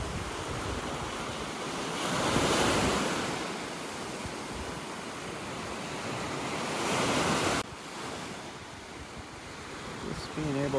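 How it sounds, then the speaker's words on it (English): Ocean surf washes onto a beach in North Naples, Florida in a steady broad roar, swelling and easing as waves break, with wind buffeting the microphone. "Just being able to come out here and breathe in this fresh air, listen to those waves."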